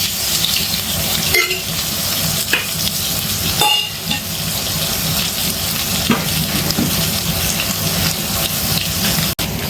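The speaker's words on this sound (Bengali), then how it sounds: "সাদা তেল দিয়ে দিচ্ছি আলুটা ভালো করে ভাজার জন্য।" Potatoes fry in white oil in a pan, giving a loud, continuous sizzle that stays close and steady throughout. A few soft scrapes and knocks of stirring break through now and then.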